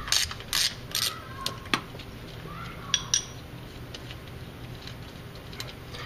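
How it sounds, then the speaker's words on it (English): A half-inch ratchet wrench clicks in short bursts while changing a speedometer gear on a Jeep Wrangler or Cherokee, several quick ratcheting runs up close followed by a few isolated clicks and taps. "Half inch wrench."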